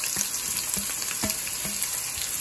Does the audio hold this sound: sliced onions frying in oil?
yes